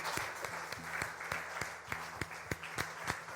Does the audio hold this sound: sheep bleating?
no